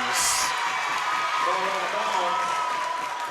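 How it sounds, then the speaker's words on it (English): A home crowd at a girls' varsity volleyball game between Shanley and Sheyenne cheers and claps steadily from the gym stands, with a commentator talking over the noise throughout. "Crowd really starting to get into this one, rallying behind the home team"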